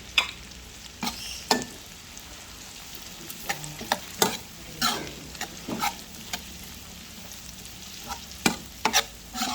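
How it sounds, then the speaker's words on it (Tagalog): Ilocano-style bopis cooking in a pan, stirred with repeated sharp scrapes and clinks over a low sizzling fry, the strokes coming irregularly and close by. "Haluin natin."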